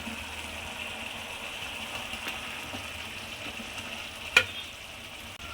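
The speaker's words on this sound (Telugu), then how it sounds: "ఆయిల్ పైకి వచ్చేదాకా కుక్ చేసుకుందాం" Fried amaranth curry pieces cooking in oil in a pan, a continuous even sizzle with a low background hum and one sharp utensil knock near the end, no speech.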